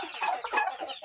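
Native farm chicken clucking close by, a short busy burst of cackling calls with no other sound.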